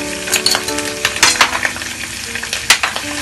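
Garam masala, haldi and chili powder stirred in a pan, with loud, close clattering scrapes of a utensil in bursts over a continuous frying sizzle and some steady humming tones underneath, no voices.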